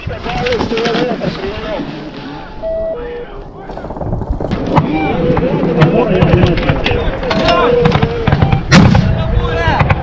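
Gunfire during the attack on Gostomel airport in Kyiv, with bursts of shots and heavy booms scattered through shouting and urgent talk by several men, loud and chaotic throughout.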